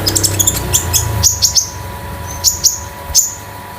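Konin bird, a metallic-type damer, calls in a series of sharp, high chirps and whistles, some clustered quickly and others spaced about a second apart, loud and close with no other voices.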